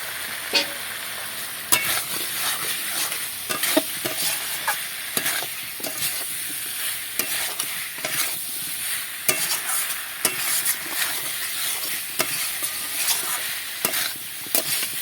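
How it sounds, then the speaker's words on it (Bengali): Fried potato and pointed gourd are stirred into a sizzling spice paste for a vegetarian Bengali curry, a steady frying hiss punctuated by repeated sharp scrapes and clatters of the spoon against the pan. "এবার ভেজে রাখা আলু আর পটলটা আমি ঢেলে দিচ্ছি"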